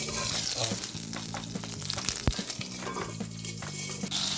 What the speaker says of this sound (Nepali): तेल तातिसक्यो होला, गोलबेडा खन्याउँ।